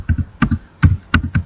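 A command is typed on a computer keyboard in a terminal: a short run of crisp, close key taps in quick uneven bursts, with no talk.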